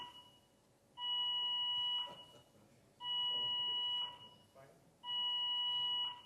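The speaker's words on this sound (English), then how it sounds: "Is that like Simon Cowell pressing the big buzzer?" In a conference room an electronic buzzer alarm sounds three times, each a steady tonal beep about a second long with gaps of silence between, loud and clear against faint background murmur.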